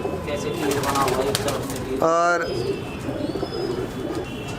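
Malwai pigeons, a rare colour type, give a short cooing call near the middle, heard over steady background noise and nearby talk.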